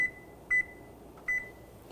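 A kitchen timer beeps twice, with short, thin, high-pitched bleeps spaced under a second apart over a quiet kitchen background hum.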